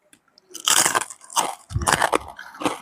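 Crispy pork rinds being bitten and chewed close up, several loud dry crunches in quick bursts with short pauses between them, no talking.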